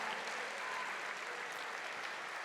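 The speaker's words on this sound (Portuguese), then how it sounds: "aplauda ao Senhor" A church congregation claps through a worship service in a steady, even wash of applause, moderately distant and fairly quiet, with no speech over it.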